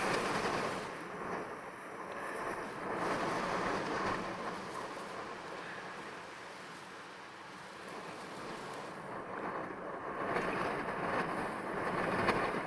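A 60-knot gale blows at J Bay with an 8 m swell, making a steady, loud roar of wind that swells and eases in waves and never drops to quiet.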